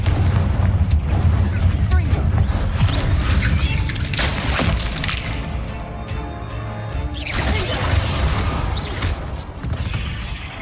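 A Confringo blasting spell going off in the Hogwarts Legacy video game: loud, sustained booming blasts with crashing debris, rumbling under a busy game soundtrack, and a swell of renewed blast noise near the end.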